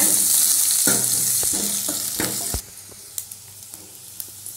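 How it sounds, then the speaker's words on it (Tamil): Onion, mustard seeds and curry leaves frying in hot oil for a Tamil tomato sambar, a loud steady sizzle with occasional stirring clacks that drops to a quieter crackle partway through, with no speech. "பெரிய வெங்காயம் போட்டுக்கோங்க கருவேப்பிலை போட்டுக்கோங்க நல்லா வதக்குங்க"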